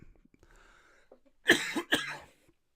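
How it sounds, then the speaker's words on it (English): Two harsh, close coughs in quick succession follow a few quiet breaths and small mouth noises. "As I cough and die."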